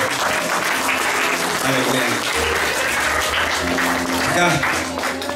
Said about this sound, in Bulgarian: Ръкопляскайте за царя